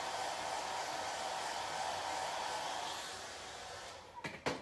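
A hair dryer on a cool setting blows steadily over a chalk craft project, a constant close whoosh that fades slightly before a few soft handling knocks at the end.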